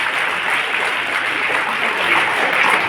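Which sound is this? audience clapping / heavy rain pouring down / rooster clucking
audience clapping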